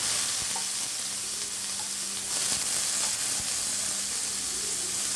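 Onions frying in a pan give a steady, fairly loud broadband sizzle throughout, with a couple of faint knocks from a utensil.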